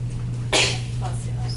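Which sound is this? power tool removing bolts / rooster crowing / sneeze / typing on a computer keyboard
sneeze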